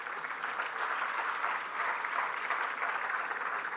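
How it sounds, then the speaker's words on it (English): Sustained audience clapping at a memorial oration during a garland felicitation ceremony, a continuous, even wash of many hands heard from a distance at moderate loudness, without pauses. "And the audience can continue to clap."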